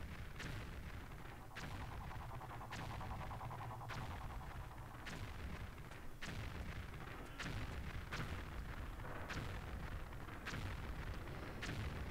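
Recurring explosions in the Tomb Raider video game, level set on the 13th floor. Booming blasts come at steady intervals of about a second over a dense, continuous rumbling background, with no talking.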